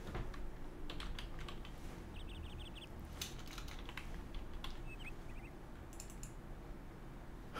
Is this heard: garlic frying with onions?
no